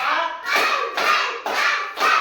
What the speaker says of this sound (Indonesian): Tepuk 1, tepuk 2, tepuk 3, tepuk 4,